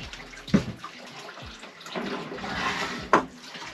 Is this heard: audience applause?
no